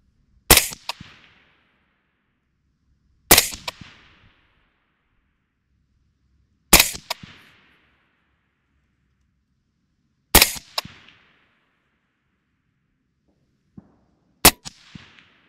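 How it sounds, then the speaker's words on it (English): Suppressed AR rifle fired at a target 200 yards away, five sharp, fairly loud shots spaced about three seconds apart, each with a short echoing tail, in otherwise quiet outdoor surroundings. "200 yards with our suppressed rifle. Again, I'm on the left-hand row of dots, shooting the middle dot."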